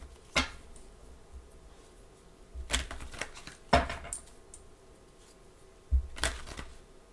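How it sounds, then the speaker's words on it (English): A few brisk riffles of tarot cards being shuffled, coming in short separated bursts with quiet pauses between them, close by. "I'm just going to have to shuffle, and you'll have to just see me pull them as I do"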